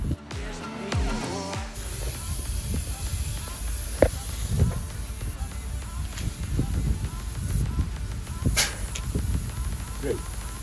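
A compressed-air leak under a Scania truck gives a steady high hiss that runs throughout, mixed with a few clanks and taps nearby.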